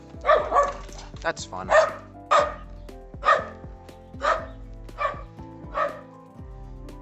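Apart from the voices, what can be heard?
dog barking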